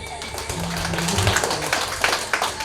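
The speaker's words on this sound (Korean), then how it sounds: "큰 박수로 환영해주세요." Scattered clapping from a crowd at a Korean-Chinese community New Year gathering, brief and fairly light, heard beneath a voice speaking over a loudspeaker.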